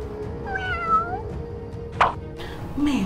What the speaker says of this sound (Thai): แมวพวกนี้ดื้อจริงๆเลย